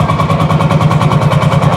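A 1954 Landini tractor engine idles loud and close, its beat steady and evenly paced, with a deep throbbing rumble and no other sounds over it.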